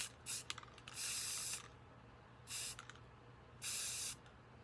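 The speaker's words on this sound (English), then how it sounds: "do the blush spray paint" Blush-colored spray paint hisses from an aerosol can in three bursts, a short one followed by two longer sustained sprays, close and fairly loud over a low steady hum.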